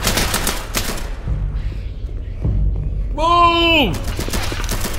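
A burst of rapid video-game gunfire cracks out at the start, then low thuds and a swept electronic tone follow, while a voice shouts briefly over the action.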